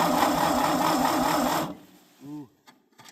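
A very cold Ford engine cranks over loudly with a steady, rhythmic churning for about a second and a half, then cuts off, leaving a short voice and faint clicks.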